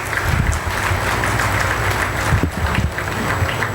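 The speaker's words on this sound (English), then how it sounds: "give a huge round of applause to him" Applause from the audience at an advisory board meeting, a dense, continuous clapping that fills the room at close range, with some low thumps mixed in.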